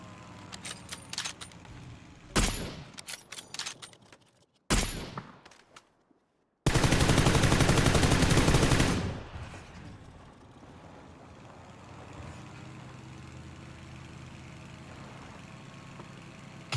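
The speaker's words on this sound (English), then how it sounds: "3 bullets from a UMP." In PUBG, a UMP submachine gun fires several rapid bursts, then a long loud sustained stream of automatic fire that cuts off sharply, followed by quieter ambient game noise.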